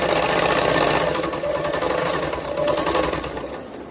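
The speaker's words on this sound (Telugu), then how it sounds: "సెకండ్ స్టిచ్ కూడా వేసేస్తున్నాను." A sewing machine stitching a blouse runs in a steady, close, fast mechanical whir, easing off slightly near the end, with no talk over it.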